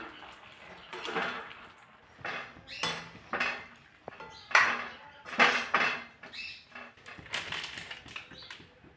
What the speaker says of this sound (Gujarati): વાટેલા આપણા મરચાં લસણ નાખી દઈશું મિક્સ કરી દઈશું બધું